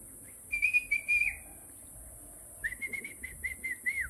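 A person whistles short high tones: a few quick notes, a pause, then a longer run of clipped whistles, fairly faint against quiet background.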